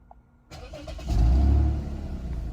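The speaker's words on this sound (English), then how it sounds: "Let's start the vehicle up." A car engine cranks and catches, then surges in a loud rev before settling into a steady, close idle, with no talk over it.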